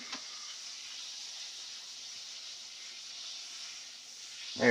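Room-temperature butter sizzles in a hot pan while veal or chicken parmigiana is being cooked, a steady soft hiss running throughout with a louder clatter at the very end.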